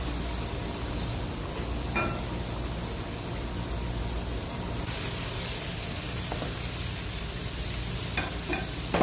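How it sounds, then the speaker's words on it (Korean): Steady, dense sizzling and crackling of starch-coated chicken skin deep-frying in 175°C oil, continuous throughout with occasional sharper pops, no voices. "닭껍질을 175도 온도에다가 하나씩 넣고 이제 튀길 겁니다"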